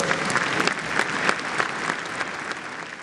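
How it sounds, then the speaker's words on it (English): A girls basketball team from Greenbrier East cheers on a floor as a crowd applauds, a dense, steady burst of clapping and shouts close by that tapers slightly toward the end. "Justice invited the Greenbrier East girls basketball team to the floor for a cheer"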